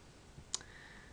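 A single sharp mouse click, close and fairly quiet, made while opening a heat pump monitor's dashboard link on a computer, with faint room hiss around it.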